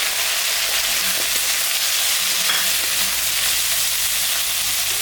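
Potatoes and onions fry with salt and turmeric in a pan, a loud, steady, close hissing sizzle throughout with faint stirring scrapes underneath.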